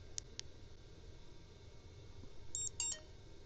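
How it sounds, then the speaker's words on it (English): Short high-pitched electronic beeps from a device, two quick tones near the start and a brighter pair near the end, faint over a quiet background hiss. "You heard a high-pitched beep."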